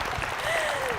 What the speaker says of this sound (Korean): 우리 권사님 박수 한번 드려야 될 것 같아요